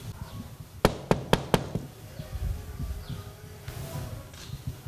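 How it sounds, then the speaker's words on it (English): Several sharp knocks land on a house door in quick succession, loud and close, followed by quiet outdoor background with faint movement. "I think I can knock from here, so I'm going to try and knock from here."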